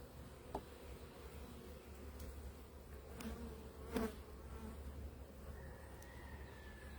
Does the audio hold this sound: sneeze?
no